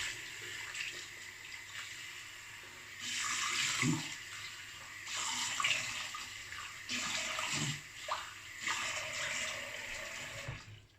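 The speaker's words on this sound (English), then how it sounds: "All right, cold water rinse." Cold tap water runs steadily into a sink for a rinse after shaving, in close, continuous surges with brief shifts in flow and a dip at the end.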